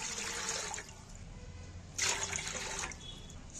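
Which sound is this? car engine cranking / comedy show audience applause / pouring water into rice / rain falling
pouring water into rice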